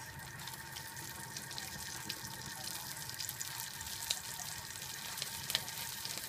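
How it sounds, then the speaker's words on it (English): Asparagus frying in leftover steak pan juices with olive oil and garlic, a constant faint sizzle with light crackles and occasional pops, heard alone and close. "with what's left, the pan juices, so that's olive oil and garlic, or obviously seasoning, I'm going to add my asparagus"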